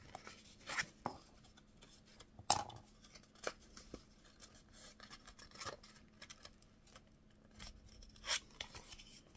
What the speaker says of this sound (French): je commence à bien marquer mes plis